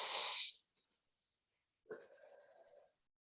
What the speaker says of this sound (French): on va prendre 3 grandes respirations